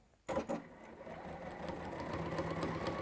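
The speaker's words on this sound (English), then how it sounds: "stitching 1/4 inch all the way down, because we are now on pouch number 2" A sewing machine stitching a seam on a fabric pouch starts up abruptly and runs at a steady fast whirring pace, close and continuous with no talking.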